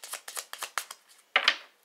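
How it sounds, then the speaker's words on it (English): Tarot cards being shuffled and handled, a quick run of four or five crisp riffling bursts followed by a pause and then a single sharper snap as a card is pulled, close up and quiet, with no voices. "I'm gonna pull just one more card"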